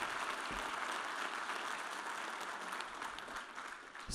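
An audience at a live panel talk applauds in a sustained, even wash of clapping that stays at a steady, moderate level throughout.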